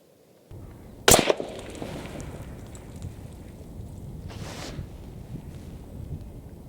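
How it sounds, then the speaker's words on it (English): A single sharp rifle shot cracks out close and loud while zeroing an Element Optics Helix 8x56 scope outdoors, followed by a brief echoing tail and steady wind noise. "So let's take a shot and see how we get on with it."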